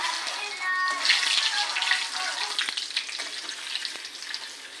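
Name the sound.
bay leaves sizzling in hot oil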